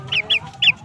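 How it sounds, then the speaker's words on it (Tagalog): Young Shamo chicks, about a month old, give three short, high, bright peeps in quick succession, close and clear over faint low background. "So ito yung ating mga bagong sisiw"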